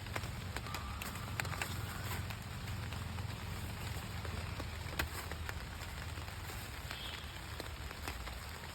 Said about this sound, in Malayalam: അന്തരീക്ഷമൊക്കെ കണ്ടില്ലേ ഭയങ്കര മഴയാണ്